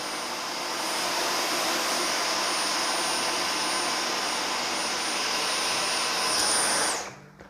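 A Dyson Micro 1.5kg cordless vacuum cleaner runs on regular power for a forward and backward pass, giving a steady, loud, high whine throughout before cutting off abruptly near the end.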